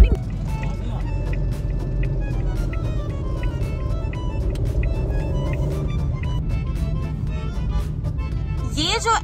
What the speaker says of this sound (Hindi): ये जो है ना जगह भाई, इतनी ये एक्सट्रीम किस्म की ट्रैफिक होती है यहाँ पे।